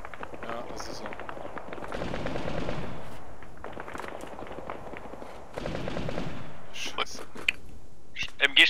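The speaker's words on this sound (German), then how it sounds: "MG-Stellung wird beschossen" Machine gun bursts in ArmA 3 rattle in long rapid volleys from a moderate distance, with sharper nearby shots near the end, as players talk over the radio.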